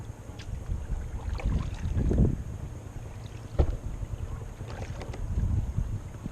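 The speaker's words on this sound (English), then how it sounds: "I'm gonna hit number 1. And the motor kicked in." Bixpy J-1 electric outboard motor driving a Viking Profish Reload kayak on open water at first speed, a low steady hum blended with water wash and wind buffeting the microphone.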